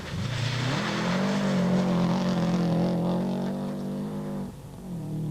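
A Subaru rally car on a wet special stage of a South African Cape rally roars close by, its engine note climbing as it accelerates and holding high, then dropping briefly as the driver lifts and comes back on the power.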